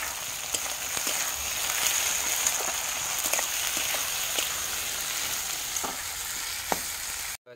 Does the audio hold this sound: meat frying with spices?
yes